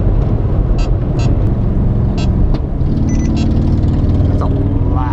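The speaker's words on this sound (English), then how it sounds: "That's a loud exhaust." A Hummer's loud exhaust gives a heavy, constant low rumble at close range from start to finish, with a few brief higher clicks over it.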